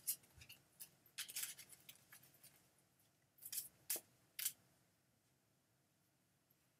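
Cards being shuffled in short irregular bursts of crisp riffling and snapping, with quiet gaps between them, close and fairly soft, no talking.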